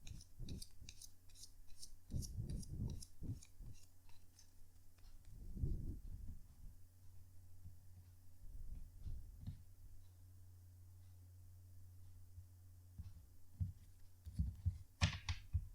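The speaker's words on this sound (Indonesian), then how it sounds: "kartunya dikocok dulu sebelum kita mulai" Tarot cards shuffled by hand at close range, a quiet run of crisp, rapid flicks and riffles bunched in the first few seconds, then sparser soft taps and thuds with no talking.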